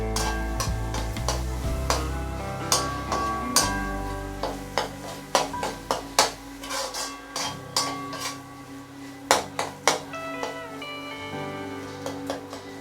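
Pav bhaji vegetables being stirred with Schezwan sauce in a pan, a spoon scraping and clacking against the metal in irregular knocks over a soft sizzle, growing sharper and more frequent toward the end.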